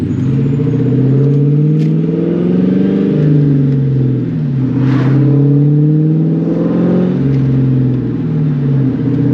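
A 1999-2004 Ford Mustang with an aftermarket exhaust setup rumbles loudly up close while driving through a small town, its engine note rising and falling through several revs and gear changes with a deep, steady drone.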